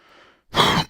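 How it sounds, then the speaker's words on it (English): A single sharp cough straight into a microphone in a live day-trading stream, loud and close, following a brief soft breathy exhale with no talking. "Coughing right into the microphone."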